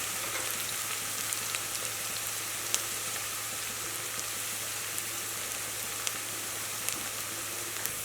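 Onions fry in oil in a pan, cooking toward golden brown for coconut beans, with a steady close sizzle and scattered small crackles and pops, no talk.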